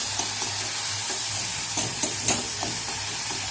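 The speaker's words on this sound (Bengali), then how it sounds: "টমেটোটা একটু নুন দিয়ে ভাজতে দিয়েছি" Hybrid tomatoes frying with salt in a pan give a continuous close sizzle, with soft, regular spatula stirs and scrapes underneath and a low background hum.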